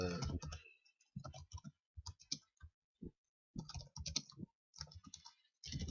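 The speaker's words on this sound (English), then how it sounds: "I'm just typing in there so we can write down it" Fingers type on a computer keyboard nearby in irregular bursts of crisp clicks, separated by short pauses.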